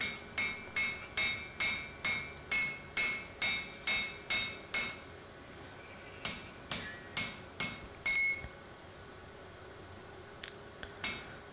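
Hand hammer striking a forge-welded Anglo-Saxon adze on an anvil: a steady run of about fifteen ringing blows, then a pause and several sparser, lighter strikes, close and clear with no talk.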